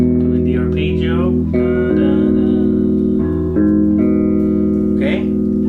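On a bass guitar with a clean tone, a major triad arpeggio is played as sustained notes that step one after another, up and back, loud and close with no talk.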